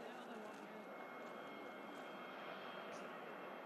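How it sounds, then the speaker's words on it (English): A small plane, a PC-24 business jet, runs at Manchester Airport in snowy weather with a steady, broad engine roar that holds level throughout. "Beautiful little plane, this"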